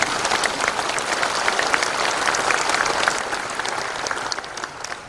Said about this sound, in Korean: 하나님 앞에 영광의 박수를 보내주시기 바랍니다.